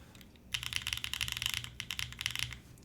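Mechanical keyboard fitted with Mode stabilizers, typed on in a quiet room: a fast, crisp run of clacky keystrokes with a few brief pauses, close and fairly soft.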